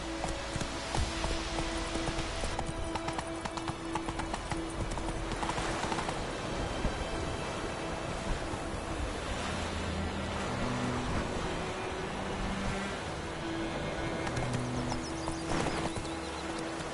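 A horse's hooves clip-clop steadily at a trot, close and continuous, with a faint tonal hum and occasional soft rustles underneath and no talk.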